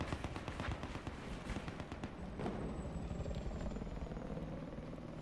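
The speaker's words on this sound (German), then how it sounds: "Von dem Helikopter, wenn der an dir vorbeifliegt und sowas." Helicopter flying past in the video game Battlefield 4, a dense rotor thumping and roaring engine noise that swells and passes, loud and close, mixed with rumbling battle sounds and a faint high whine.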